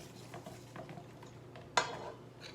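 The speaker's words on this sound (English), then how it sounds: "Mix that together." Meatloaf mixture is stirred together with breadcrumbs in a bowl, producing soft squelching and scraping with a single sharper knock of utensil against the bowl partway through.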